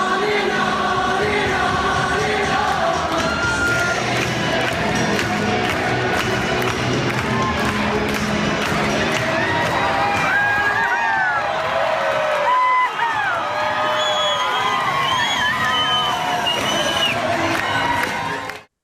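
A large stadium crowd at a Giants baseball game cheers and sings along, a dense, loud wash of voices, whoops and shouts that carries on throughout.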